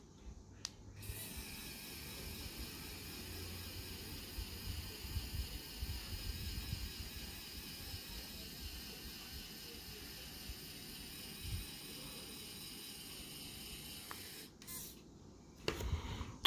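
A MYNT 3D printing pen's small motor whirs steadily as it extrudes filament, a faint continuous mechanical hum with light ratcheting texture, close up and alone, stopping briefly near the end.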